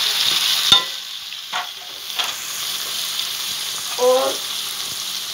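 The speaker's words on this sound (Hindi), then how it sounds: "अब इसमें डालेंगे टमाटर" Tomatoes dropped into chicken karhi masala frying in oil, a steady sizzle with a few sharp spoon knocks and scrapes, close and fairly loud, with a brief spoken word.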